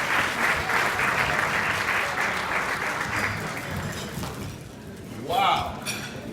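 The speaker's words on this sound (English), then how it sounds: "Big round of applause for Ms. Chandra Law!" Audience applause fills an awards ceremony for an influential Asian American honoree, sustained clapping that fades slightly before a brief thud and a voice near the end.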